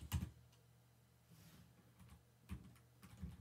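Keyboard keys clicking while a conda command is typed on a computer, a few quiet separate taps and short bursts spread over a few seconds, close and alone without talk.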